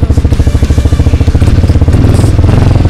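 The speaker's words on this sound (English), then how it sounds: "Press the button, and it starts right up." A Motobravo 150cc LKY Hornet motorcycle scooter engine starts and settles into a steady, loud putter at close range, its rapid exhaust pulses growing slightly fuller toward the end.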